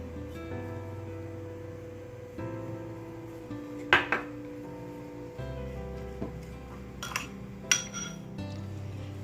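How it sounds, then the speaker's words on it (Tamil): Small clinks and scrapes of a spoon against a bowl as finely chopped cucumber is tossed with a little salt in a home kitchen, with scattered sharper taps over a low steady hum. "இதில் கொஞ்சமாக வந்து உப்பு சேர்த்து இதை மிக்ஸ் பண்ணி ஒரு 10 நிமிஷம் ஊற விட்டுடலாம்"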